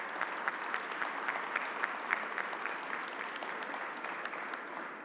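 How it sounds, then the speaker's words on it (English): A room full of people claps steadily, a dense patter of applause holding at an even level throughout without voices. "the entire team a round of applause"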